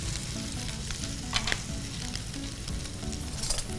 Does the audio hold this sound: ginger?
yes